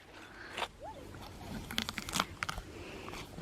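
A horse bites and chews a large apple, producing a few sharp wet crunches and crackling chews in irregular bursts, fairly quiet and close.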